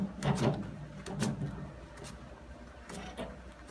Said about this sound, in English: move the door latch off to the side